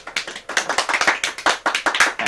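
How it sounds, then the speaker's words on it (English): A talk show studio audience applauds for a couple of seconds, a dense, steady roar of close clapping that pulses slightly, with no voices over it. "Have another round of applause."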